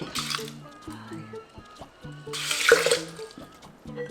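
Water, about 200 ml, goes into a pot for perilla seed stew in two short splashing pours, close and moderate in level, over a soft tonal background.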